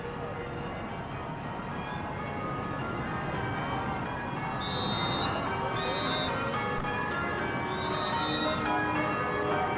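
Church bells ring out in a repeated peal over a steady wash of outdoor crowd and street noise for a celebratory occasion. The bell strikes come through clearly but sit at moderate distance.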